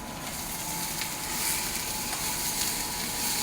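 Chicken and vegetables stir-frying in a hot cast iron pan, giving a steady, loud, close-up sizzle with a dense crackling hiss that holds evenly throughout, with no voices.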